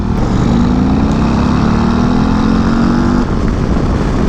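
Harley-Davidson CVO Road Glide ST with a Milwaukee-Eight 121 cubic inch engine, close and loud on a race track, a steady throbbing drone whose pitch climbs slightly as it pulls, with no voices.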